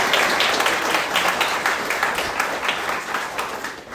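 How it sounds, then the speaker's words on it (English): Steady applause from a crowd at a press conference, dense clapping that stays loud and continuous before easing slightly toward the end. "Let's give all of them a huge round of applause"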